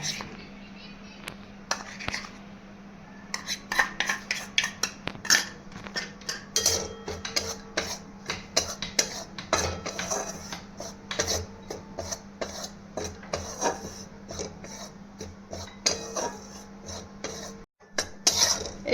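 Besan is dry-roasted in an empty wok, stirred with a spatula in busy scraping and rasping strokes against the metal, close and irregular, with a faint hum beneath.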